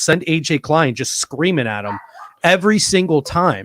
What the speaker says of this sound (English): That's my dog disagreeing with me